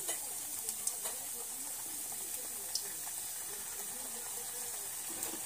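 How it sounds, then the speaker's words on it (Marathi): Puris for pani puri frying in hot oil over a low flame: a soft, steady sizzle and hiss runs throughout, faint and even, with tiny crackles here and there. "अशाच मंद आचेवर आपल्याला ह्या पुऱ्या भाजून घ्यायच्या आहेत"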